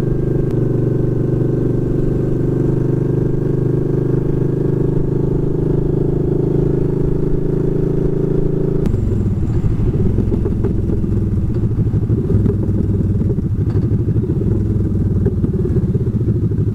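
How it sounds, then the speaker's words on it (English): A motorcycle passes on the road, its engine drone steady and fairly close before shifting into a rougher, clattering note as it goes by, with no talking. "oh, I see a motorcycle. I see me a motorcycle."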